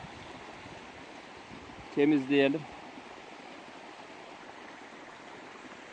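A stream flows beside a walnut tree as a soft, continuous babble at low level, and a person speaks one brief phrase partway through.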